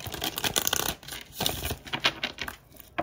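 Tarot cards being shuffled by hand at close range, a quick run of crisp riffling, slapping bursts with short pauses between them and no talk.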